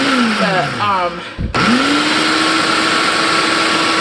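A blender pulverizes old-fashioned oats with a loud, close, steady roar; the motor pitch drops and then jumps back up to a sustained high whine partway through.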